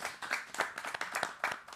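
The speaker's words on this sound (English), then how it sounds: "So a big round of applause and a welcome to you, Ita." A small panel-discussion audience claps in welcome, a short, fairly quiet burst of scattered hand claps with a loose, uneven rhythm.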